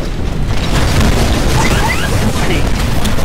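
Rocket salvo explosions in the Titanfall video game, a dense, loud barrage of booming blasts that rumble continuously with overlapping bursts and crackle, close and sustained.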